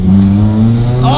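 A Honda Integra engine revs hard under load with strong low harmonics, the tone climbing sharply near the end as VTEC engages, with a voice shouting over it.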